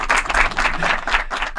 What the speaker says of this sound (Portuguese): Palmas pra Natália.